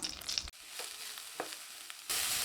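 Mixed vegetables for white sauce pasta, with salt and pepper added, sauté in a pan over medium-high heat, a soft steady sizzle with a few light stirring clicks and brief cuts in level, with no talk.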